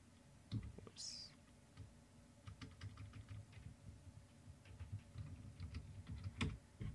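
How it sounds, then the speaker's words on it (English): A command is typed on a computer keyboard in a quiet room: soft, irregular clusters of close keystrokes and clicks tap along for several seconds. "type in CMD, and then type in GP update slash force"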